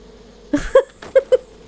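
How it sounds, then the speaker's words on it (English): Bees in the video game Far Cry 5 give a few short buzzing bursts, four brief tonal hums spaced irregularly over a quiet background. "Just had to shoot the bees."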